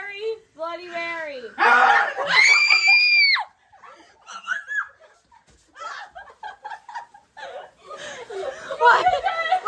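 A girl shrieks a loud, high scream backstage during a ballet dress rehearsal, followed by excited chatter and giggling from several young voices, the screams and laughter close and bursting in uneven spurts.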